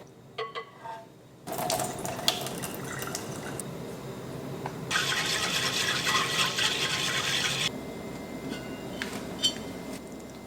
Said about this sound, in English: wash 2 cups of rice thoroughly and set it aside